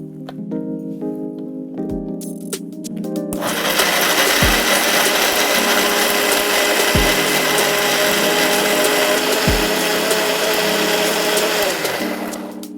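A kitchen mixer grinder whirs loudly and steadily, grinding mutton curry ingredients into a fine paste after a short start-up; its dense motor roar runs unbroken with a few brief dips and no talk.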